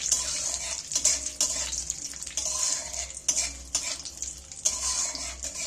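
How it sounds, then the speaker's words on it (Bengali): Cashews and cardamom fry in ghee for suji halwa, a continuous crackling sizzle broken by repeated scraping strokes of a spoon stirring the pan, close and fairly loud. "কাজু বাদামটাও তেলে ঘিয়ের মধ্যে দিয়ে দিচ্ছি ঘিয়ের মধ্যে আমি একটু বাদামটা নাড়াচাড়া করে দিচ্ছি"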